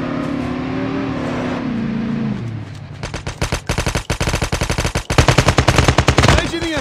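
Rapid bursts of automatic gunfire in the Call of Duty Mobile video game, close and loud, come in dense rattling volleys after a brief stretch of engine-like droning.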